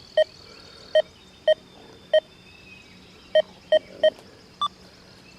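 A Deus 2 metal detector passing over a bottle cap, with silencer -1 and a -6.4 ground iron brake, emits a string of short, crisp beeps at uneven intervals, alone and fairly loud.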